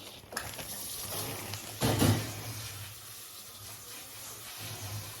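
Tap water runs over shredded lettuce in a strainer at a kitchen sink, a steady close hiss with a brief louder splashing gush in the middle, no talking.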